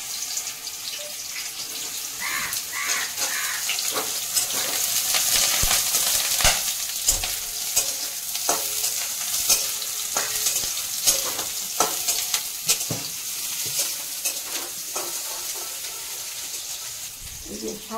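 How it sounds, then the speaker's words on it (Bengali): Soybeans deep fry in hot oil in a kadai, a loud steady sizzling hiss with bubbling crackle and intermittent stirring clinks, close up and without voices. "কড়াইয়ে তেল গরম হয়ে গেছে, আমি এখন সয়াবিনগুলো ভেজে নেব,"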